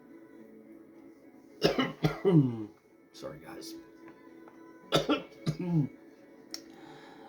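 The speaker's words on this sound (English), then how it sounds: "I'm still coughing crap up" Several harsh coughs in short bursts, close and loud, with quiet gaps between them and a brief spoken apology.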